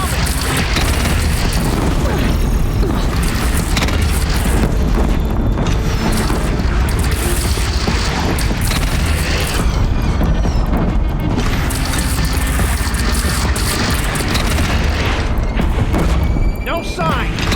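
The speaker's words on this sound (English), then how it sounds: "Deathbringer fire incoming!" Deathbringer machine in Horizon Zero Dawn firing explosive shots, a dense continuous barrage of loud booms and crashes with game voices talking over the chaos.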